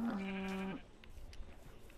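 A single sheep bleat from Minecraft, a loud, steady nasal call with stacked harmonics lasting about three quarters of a second, followed by quiet game ambience.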